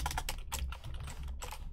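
Fast, steady typing on a computer keyboard during a beginner coding session, with a continuous run of close, crisp key clicks and no voices.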